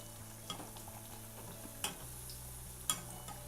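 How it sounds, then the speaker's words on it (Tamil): Spinach vada frying in hot oil, a steady soft sizzle and bubbling throughout with a few sharp clicks of a utensil against the pan, no talking. "வடை வந்து நல்லா வெந்துருச்சு ரெண்டு பக்கமும்."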